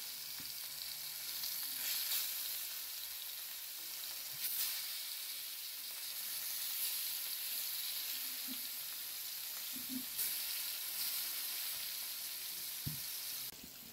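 Rohu fish frying in hot oil in a pan, a steady bright sizzle with occasional sharper spits and crackles, close and continuous throughout.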